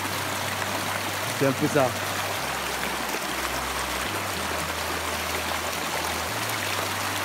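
Natural spring water flows steadily in a village in west Cameroon, a constant broadband rush under a quiet voice that speaks briefly.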